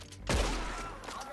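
A single loud gunshot in the Red Dead Redemption 2 video game cracks sharply and then rings out with a decaying tail, while faint voices murmur around it.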